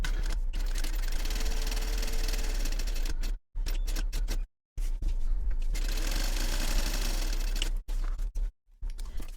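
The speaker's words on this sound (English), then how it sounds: "she gives you a suggestion to start at the bottom, sew up, jig-jog over 1 stitch, and then sew down" A sewing machine stitches mesh slip pockets on a fabric travel cube, running close and loud in long steady bursts, with short pauses and brief clicks when it changes direction.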